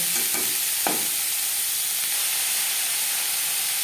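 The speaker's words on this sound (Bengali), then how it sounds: "যেহেতু আমি কম সময়ে তৈরি করছি তাই আমি একসাথে হালকা করে ভেজে নেব" Egg, carrot and peas fry together lightly in a pan for quick fried rice, producing a constant close hiss with a few faint clicks at the start.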